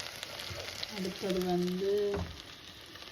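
Sliced onion, green chili and garlic sizzle steadily in hot oil in a pan for a meat curry, a close, continuous hiss under a short stretch of speech.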